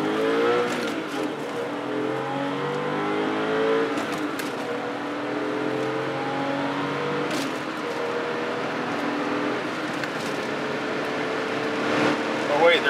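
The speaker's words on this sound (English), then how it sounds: "A little ride in the old car here." An old used car rolls along with a steady engine drone and rising tones as it accelerates, heard from inside the cabin with constant road and wind noise throughout. A brief sharper burst comes near the end.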